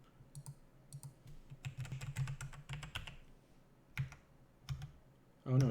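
Typing on a computer keyboard, irregular bursts of key clicks with short pauses between runs, close and fairly quiet, ending in a heavier thump.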